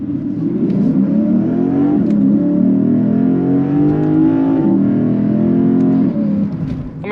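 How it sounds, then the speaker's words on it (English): A deep 5-litre V8 engine in a Lexus IS500 revs and holds a loud, throaty roar, pitch climbing and falling steadily, close by with no voices. "That 5-litre V8, the sound that comes off of it"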